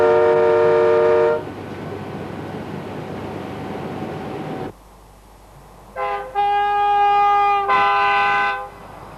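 A Class 91 electric locomotive's horn sounds in loud sustained blasts from the cab, first one long tone, then after a quiet gap a two-tone pair of blasts close by, over cab running noise.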